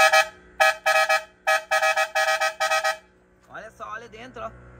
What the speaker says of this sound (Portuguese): até buzina tem.